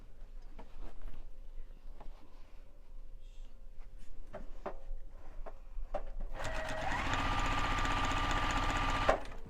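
Home sewing machine stitching a Santa hat pillow, with scattered ticks and taps at first, then a steady whirring run of a few seconds close by that stops abruptly.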